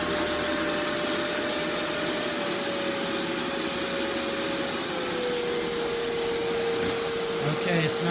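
Kenmore Intelli Clean upright vacuum cleaner running steadily with a loud broadband whoosh and a sustained motor whine that dips slightly in pitch partway through, close and continuous.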